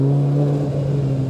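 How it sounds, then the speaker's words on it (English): A Lamborghini Urus drives past on a country lane, a steady engine drone with a strong low hum that fades slightly as it goes by, brief and fairly loud. "Oh, a Lamborghini Urus."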